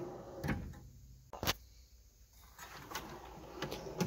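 A metal tool box drawer slides and clunks open nearby, with a couple of sharp knocks and rattles of tools inside against a quiet room.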